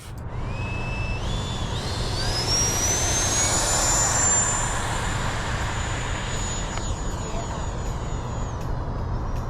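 An FMS Rafale 80mm EDF model jet cruising at half throttle, a steady loud ducted-fan whine that rises in pitch early, then holds a high tone over a broad rushing roar.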